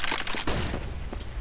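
Gunfire in the video game Counter-Strike: a rapid burst of sharp cracks followed by a few scattered single shots, loud and close.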